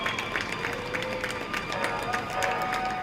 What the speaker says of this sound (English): That's the sound of cheering filling our downtown streets.